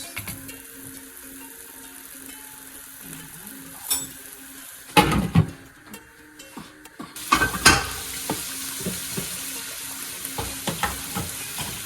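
Alamang shrimp paste fries with meat in a pan, a steady low sizzle punctuated by scraping stirs and metallic clinks of a utensil against the pot.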